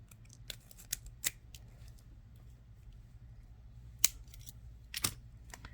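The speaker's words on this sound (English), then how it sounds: "So we'll cut a foot of Softflex off." Scissors snipping through Softflex beading wire, a few sharp, quiet clicks scattered over several seconds against a faint low hum.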